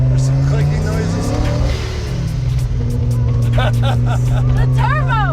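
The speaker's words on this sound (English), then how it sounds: "The turbo!" A car accelerates with its turbo spooling up, the engine rising and falling in pitch under excited voices talking throughout.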